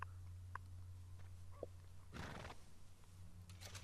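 A horse in Red Dead Redemption 2 gives a brief whinny amid a steady low game hum, with a few soft hoof-like clops and rustles scattered around it at low volume.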